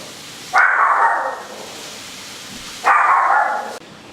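Two loud, sharp dog barks about two seconds apart, close by, against a steady background hiss.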